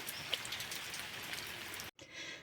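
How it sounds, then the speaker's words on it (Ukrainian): Heavy rain falling outside, a dense continuous hiss of drops close by with a few louder individual splats, broken by a brief cut near the end before the downpour resumes. "У нас такий страшний йде дощ великий"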